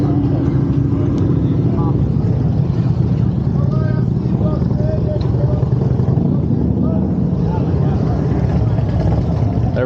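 Suzuki Hayabusa motorcycle out on a demo ride at the Sturgis Rally, engine running steadily and loud throughout with continuous road and wind noise, and some talk mixed in underneath.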